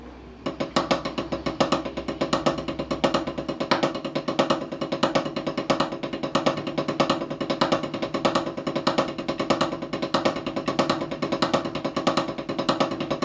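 Accented paradiddle rudiment played on a drum kit, accents falling on the third and fourth notes of each group; a steady, rapid stream of crisp strokes with evenly repeating loud hits continues alone for the whole stretch.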